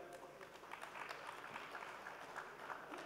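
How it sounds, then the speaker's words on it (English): An audience at a corporate leaders forum claps steadily for about three seconds, a soft, even patter of many hands heard at a distance with a faint voice underneath. "Let's give a big round of applause."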